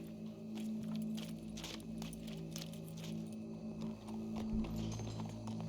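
Horse hooves clip-clop in Red Dead Redemption 2, a steady run of hoofbeats set against a busy ambient bed with a low, constant hum throughout.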